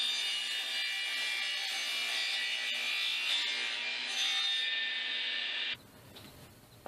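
Handsaw cutting through a drilled, countersunk wooden piece to split it in half, with steady rasping strokes running continuously for several seconds, close and fairly loud, before stopping abruptly near the end.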